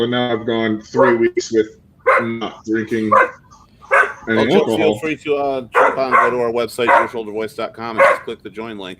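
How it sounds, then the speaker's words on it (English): A dog barks and whines intermittently in the room during a talk podcast, partly masked by people speaking over it. "If you hear a dog barking, you're in the right place."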